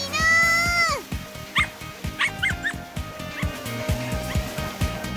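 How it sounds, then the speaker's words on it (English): A dog yips and barks in short repeated bursts within the video game Muv-Luv Extra, set against a steady game music bed, with a voiced exclamation at the start. "犬だほらたけるちゃん犬だよ"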